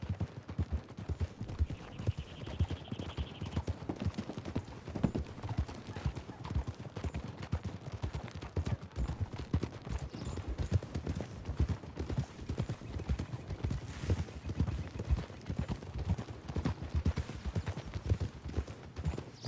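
Several horses' hooves clip-clop steadily along a trail in the Western video game Red Dead Redemption II, a close, continuous rhythmic patter of riders moving together, with a brief whinny and a faint distant shot.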